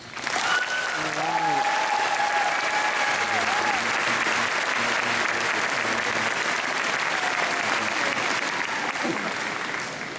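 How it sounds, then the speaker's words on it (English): A crowd at a high school graduation ceremony applauds the parents with a dense, steady roar of clapping that lasts throughout, while a voice speaks briefly over it early on. "Let's have a round of applause for all the parents out there."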